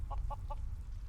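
Chickens cluck in the video game Skyrim, three short evenly spaced clucks heard moderately close over a low ambient rumble.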